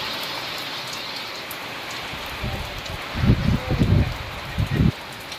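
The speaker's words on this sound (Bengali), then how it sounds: "প্রচন্ড মেঘ হয়ে বৃষ্টি নেমেছে।" Heavy rain pours during a storm over an Andaman village, a steady broad hiss with irregular low thumps and patters close by toward the end.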